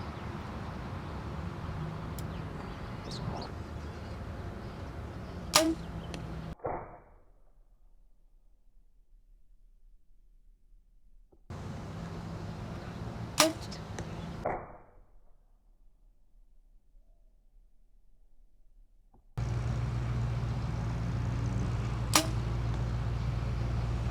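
Arrows shot from a compound-style bow with no stabilizers fitted, each release a sharp snap followed by a thud on the target, a few spaced shots separated by stretches of near silence, outdoors.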